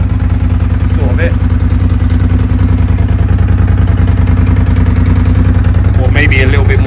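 A Suzuki SV650S motorcycle engine idles steadily and loudly up close, its even low chugging continuous throughout, with brief voices over it.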